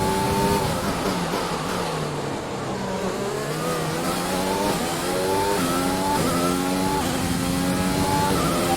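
Simulated Formula 1 race car engine from the F1 2020 video game at the Canada circuit, loud and steady, climbing repeatedly through the revs in rising whines with quick gear changes, no talk over it.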